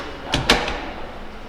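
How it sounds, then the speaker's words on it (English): A sliding screen door on a small teardrop camper runs along its track in two quick swishing strokes, near and moderately loud against a steady background hiss. "And the screen slides."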